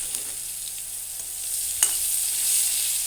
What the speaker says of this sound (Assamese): এতিয়া মই একেখিনি তেলতে পিঁয়াজ দিছোঁ, কাটি ৰখা পিঁয়াজখিনি দিছোঁ আৰু এইখিনিও ভালদৰে ভাজি ল'ম।